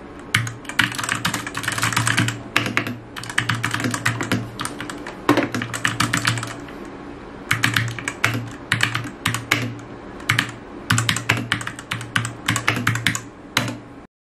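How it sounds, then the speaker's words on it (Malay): Steady typing on a Fantech MAXFIT61 Frost wireless mechanical gaming keyboard, rapid clacky keystrokes in bursts with brief pauses, close and fairly loud, no voices. "sound keyboard ni"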